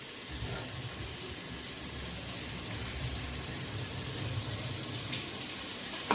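Hot water poured from a vessel into a cooking pot of masale bhat, a steady continuous splashing rush like a running tap that holds evenly for several seconds without talk.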